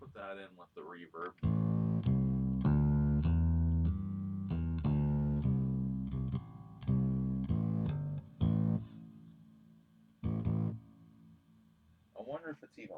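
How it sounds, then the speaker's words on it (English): A modded Squier Classic Vibe 70s Jazz Bass runs through delay and reverb pedals and plays a series of sustained notes and short phrases, with tails ringing out between them and a pause near the end. "How about the delay? Let's put that in with the reverb."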